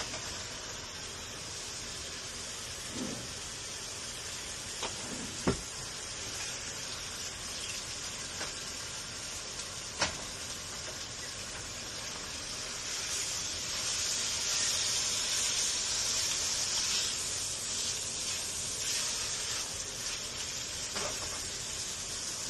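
Ribeye steak sizzling on a hot electric stove, a steady broadband hiss that swells louder in the second half, with a few sharp clicks and no talking.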